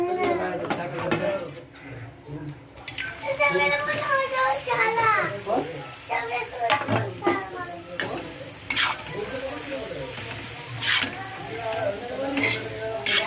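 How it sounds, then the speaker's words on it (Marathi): Dried Bombay duck and green chillies fry in oil on a flat pan, giving a steady sizzle with stirring and scraping, while people, including a child, talk nearby over the cooking. "आपल्याला तेलामध्ये मस्तपैकी फ्राय करून घ्यायचं मस्तपैकी आपली बोंबील आणि हिरवी मिरची"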